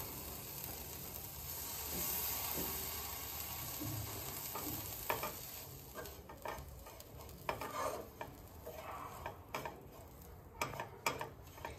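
Masala with coconut and ground peanuts is sautéed in a pan, giving a steady sizzle joined later by irregular scrapes and taps of the stirring spoon, close and moderately quiet with no voices.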